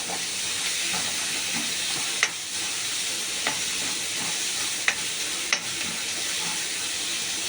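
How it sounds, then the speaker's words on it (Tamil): Sliced onions fry in a hot pan for mushroom dosa, producing a continuous close sizzle and hiss with a few scattered taps of a stirring spoon against the pan. "வெங்காயம் இப்படி வதங்கி வந்துட்டு இருக்கும்போது"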